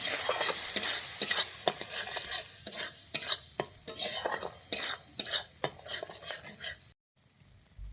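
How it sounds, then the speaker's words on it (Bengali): A spatula scrapes and clatters steadily through thick rui fish kalia masala in a pan with a little water, frying it down until the oil separates; repeated close stirring knocks over a soft sizzle, stopping abruptly near the end. "দিয়ে আমি এবার এটাকে ভালোভাবে কষিয়ে নেব যতক্ষণ আমার মশলা থেকে তেল ছাড়ে"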